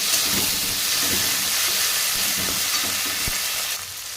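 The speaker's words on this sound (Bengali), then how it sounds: "টমেটো দিয়ে একটু নাড়িয়ে নেব" Tomato and onion are stir-fried in a pan: a continuous near sizzle with irregular stirring knocks and scrapes, easing slightly at the very end, with no talking.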